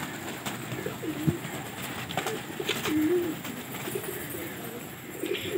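Pigeons from a rooftop loft being let out, with faint low cooing and soft calls set against steady outdoor background noise and a little distant voice activity.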